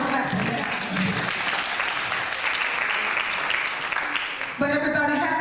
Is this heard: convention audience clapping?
yes